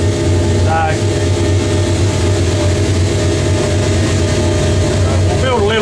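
A car engine held steady at 3,000 rpm against the brake, with a fitted water/methanol injection kit, drones loudly and continuously throughout, a low even hum with a brief voice over it.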